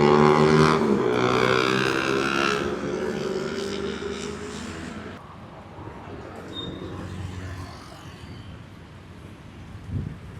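A bus passes close by at a busy roadside junction in Batam, its loud broadband engine and road roar dominating the first half before fading into quieter traffic and outdoor ambience.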